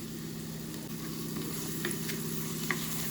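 Curry leaves and turmeric frying in hot oil for an egg curry, a steady close sizzle and crackle with soft stirring scrapes, no talking.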